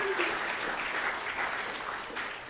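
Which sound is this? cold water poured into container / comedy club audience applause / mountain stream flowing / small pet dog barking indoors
comedy club audience applause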